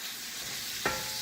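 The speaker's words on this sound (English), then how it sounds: "Going to stir our meat a little bit more." Hamburger meat sizzles steadily in a cast iron skillet, a loud continuous frying hiss, broken by one brief scrape of a utensil stirring it.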